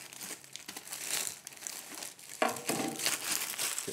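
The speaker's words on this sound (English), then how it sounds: "So let me just cut that plastic." Plastic packaging being cut and pulled off a foot pedal for a sewing machine stand, using a ruler as a cutter. It makes close, continuous crinkling and crackling, with a louder tearing rustle partway through.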